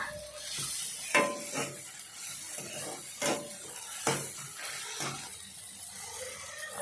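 Tomatoes frying in a pan for a Meal Maker biryani: a close, steady sizzle broken by a rhythmic series of spoon scrapes and stirs about once a second, with no talking.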